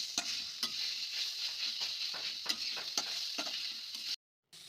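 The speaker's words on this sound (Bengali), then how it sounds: "এবার জল ঝরানো লাউটা দিয়ে দিলাম। কিছুক্ষণ ভেজে নেব।" Drained bottle gourd frying in hot oil in a kadai, a constant close hiss of sizzling broken by sharp periodic ticks and scrapes of a spatula, ending in a short abrupt silence.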